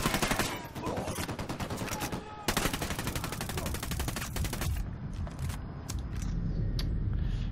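Automatic gunfire in the Ghost Recon Wildlands shooter: dense, rapid machine-gun bursts dominate for several seconds, then break into scattered single shots and thuds under a low rumble.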